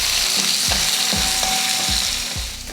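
A sliced big onion, dried red chillies and garlic cloves sauté in oil for a coconut-free chutney, giving a loud continuous sizzle with regular scraping strokes of a spatula about twice a second.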